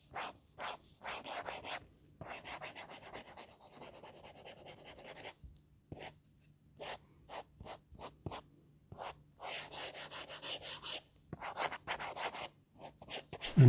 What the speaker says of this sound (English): Now the sound of the Marker Plus, which is very similar.